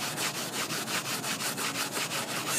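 A hand scrubs back and forth across an engine head gasket surface under firm pressure, a quick even rhythm of about a dozen rasping strokes, close and fairly loud with no talking.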